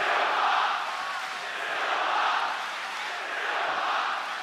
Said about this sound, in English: I believe I'm hearing Silva chants here in Melbourne.